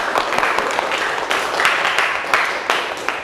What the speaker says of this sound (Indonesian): Tepuk tangan buat Erik